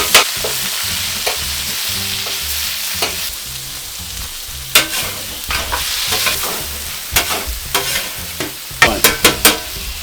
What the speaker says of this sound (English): We're just sealing the cod off.